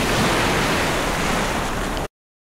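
Sea surf roars as a steady, loud broadband wash at Grenen, Denmark's northern tip, where the North Sea and Baltic meet. It runs unbroken for about two seconds, then cuts to silence.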